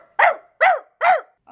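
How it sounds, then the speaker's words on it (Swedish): A dog barks three times on command, short evenly spaced barks at close range, clear and alone. "Skäll för mig."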